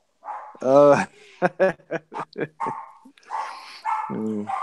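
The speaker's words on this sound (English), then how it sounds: "the parrot's going off because the parrot's setting the dog off." A pet dog barks in a quick series of sharp, close barks, with a longer yelping call at the start and end, set off by a parrot in the same room.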